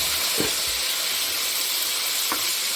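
Chicken pieces hit hot oil with browned garlic, giving a loud, continuous close-up sizzle with a few short bumps of movement in the pan.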